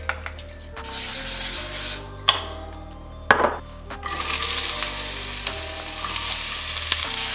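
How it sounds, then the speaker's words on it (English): Onions sizzle and fry in a skillet, a soft steady hiss broken by a few scraping stirs and clatters of the utensil against the pan, fairly quiet and close with no voices. "we're gonna start grilling the onions"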